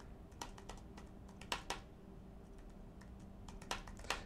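Keystrokes on a computer keyboard while working in a Chrome browser, a steady run of light clicks punctuated by a few sharper, louder taps, close and alone with no voice.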